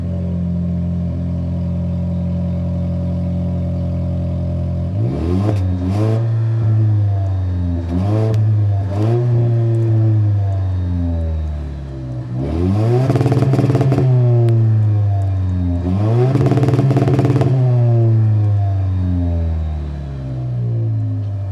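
A 2024 Toyota Tacoma TRD Pro's 2.4-litre turbo four-cylinder with TRD catback exhaust idles steadily, then revs sharply several times in short blips before two longer pulls, loud and close, with no talk.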